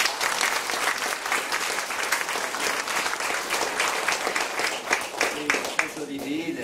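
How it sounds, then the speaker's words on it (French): An audience applauds at a maritime book fair in Le Conquet, France: dense, steady clapping fills the whole stretch, close and unbroken, with faint voices mixed in. "On peut applaudir."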